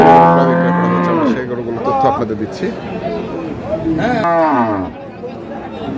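Dairy cows moo loudly and repeatedly at a busy rural cattle market where calves are also sold, several long drawn-out calls close by, with someone talking over them and crowd chatter behind.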